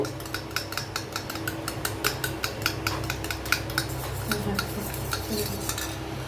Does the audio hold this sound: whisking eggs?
yes